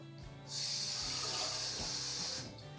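Water pours from a tap into a sprouting jar holding seeds, a loud steady hissing splash lasting about two seconds before cutting off, with quiet kitchen handling before and after.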